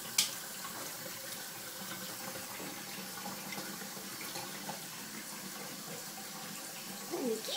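Water splashes and runs steadily while a silver Bengal cat plays in it, a continuous close wet wash with a few sharper splashes near the start and end.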